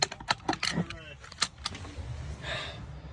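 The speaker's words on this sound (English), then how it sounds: "Then I put on my seatbelt getting ready for a call." A seatbelt is buckled inside a fire truck cab: metallic clicks and jangles of the buckle and strap up front, followed by a low rumble and rustle of the cab.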